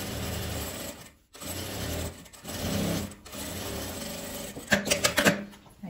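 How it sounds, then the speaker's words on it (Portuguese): A sewing machine stitches a hem on fabric, running in short, rapid, whirring bursts with brief stops between them, including a quick backstitch, close by with a steady mechanical hum. "Aqui eu vou passar uma costura, dá o retrocesso e vem costurando"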